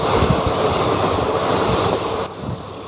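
Passenger train rolling into Sultanabad railway station, a loud continuous rumble and wheel clatter from close by that eases slightly near the end.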